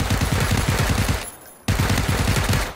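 Video game gunfire aimed at an enemy, rapid bursts of close, loud automatic shots in a steady rattling rhythm, a short pause, then the firing resumes.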